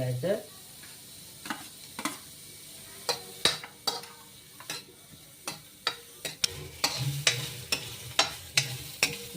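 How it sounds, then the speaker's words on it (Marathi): Onion frying in oil in a pan for a dried shrimp curry, with a soft steady sizzle and repeated sharp spatula scrapes and taps as it is stirred, close and fairly quiet. "याच्यामध्ये आता आपली कांदा टाकायचा कांदा चांगलं करतो होऊ"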